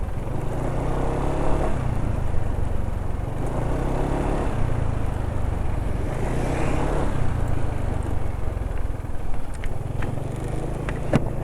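A motorcycle engine idles steadily after an oil change with Liqui Moly oil on a cold day. The low continuous hum holds at a near, fairly loud level for the whole stretch with no talking.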